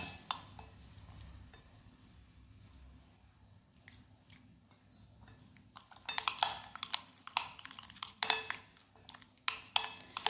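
Fish fry spice masala paste mixed by hand in a bowl, with soft wet squishing and scraping, quiet at first and then busier, sharper clinks and smacks against the bowl near the end, with no talking.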